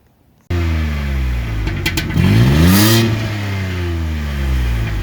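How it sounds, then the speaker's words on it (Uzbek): A Kia Carnival 3.3-litre six-cylinder petrol engine starts up, idles with a steady hum, then revs up once with a rising whine before settling back to idle; loud and close, no talk. "Kia Carnival 207 litrli va 6 silindr, 6 porchinli motor."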